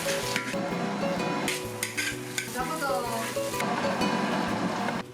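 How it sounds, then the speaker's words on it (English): Raw sesame seeds are stir-fried in a pan, giving a busy, continuous sizzle and rattle with repeated scraping and clanking of the utensil against the pan, close and fairly loud. "We have to stir-fry the sesame and grind it."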